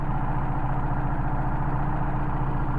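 Idle of a Mercedes 190SL engine fed by Solex carburetors, a steady, even low rumble with a fine regular pulse, close and continuous with no voices.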